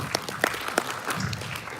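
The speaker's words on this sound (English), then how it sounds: "So give applause for all of us." Conference audience at an international trading forum claps briefly, a small scattering of crisp claps with a few louder nearby ones, fairly quiet overall and without talk.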